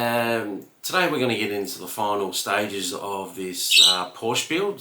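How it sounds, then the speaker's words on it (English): Pet birds squawk and chirp in the background of a room where a Tamiya 1/12 Porsche Carrera GT model is being built, their calls rising intermittently under steady close-up talk from a man. "Apologise for the birds back there"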